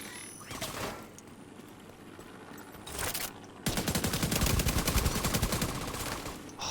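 Assault rifle gunfire in The Division 2, a brief burst early on, then from about the midpoint a dense, rapid stream of close, loud shots that continues to the end.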